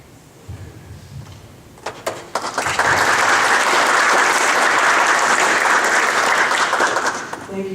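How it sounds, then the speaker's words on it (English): Sustained audience applause at a public museum campaign announcement, starting with scattered claps and swelling into a loud, dense ovation that holds steady for several seconds before tapering slightly at the end. "Thank you for applauding him"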